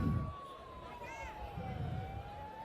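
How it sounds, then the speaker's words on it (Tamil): An ambulance siren wails with a steady, slowly falling tone through a crowded political campaign event in Tamil Nadu, heard at moderate distance under crowd noise and voices. "ஆம்புலன்ஸ் கொஞ்சம் வழி வழி வழி விடுங்களேன்"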